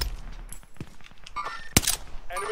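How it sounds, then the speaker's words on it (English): Loud gunshots in a multiplayer shooter game, scattered single cracks with a sharper burst near the middle and more firing at the end, close and punchy amid game noise. "Shot him."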